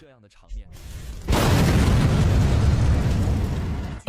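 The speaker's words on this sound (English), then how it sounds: "A massive explosion." A Russian infantry fighting vehicle explodes as flames reach its ammunition storage: a sudden massive blast after a brief quiet lead-in, followed by a sustained loud roar of burning and debris lasting several seconds.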